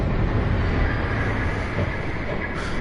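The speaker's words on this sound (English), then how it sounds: "There's a train coming." A train in the Batman Telltale Series approaches as a steady, loud low rumble and roar, continuous and heavy, with no talk over it.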